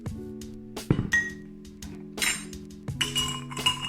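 Ingredients are stirred together in a glass for an alcohol-free martini-style mocktail, giving four sharp, close glassy clinks with brief pauses between them and no talking.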